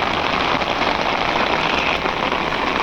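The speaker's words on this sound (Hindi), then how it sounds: "बहुत ही ज़्यादा बारिश पड़ रही है और मैं पूरा भीग चुका हूँ" Heavy rain pours steadily across the IIT Guwahati campus, a dense, loud, unbroken hiss of drops hitting the ground close by, with no voices over it.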